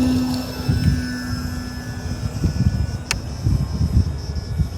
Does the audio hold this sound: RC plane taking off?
yes